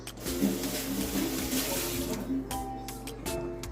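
Water runs and splashes steadily as washed chicken drains in a sink, a close, constant wash of noise with light clinks near the end.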